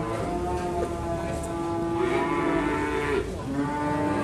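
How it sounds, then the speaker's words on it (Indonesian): Cattle mooing in a farm pen holding young calves, male and female, several long, deep, drawn-out lows overlapping one another, close and loud, with a voice speaking faintly underneath. "di sebelah sini ada pedetan sapi jantan, kemudian di belakangnya ini ada pedetan-pedetan sapi betina"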